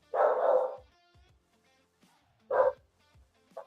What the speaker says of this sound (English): got the dogs going crazy